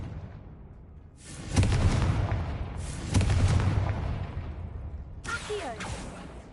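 Two heavy booming blasts from the Confringo fire spell in the Hogwarts Legacy video game, each a loud broadband burst trailing into rumble, followed by a brighter crackling spell effect near the end.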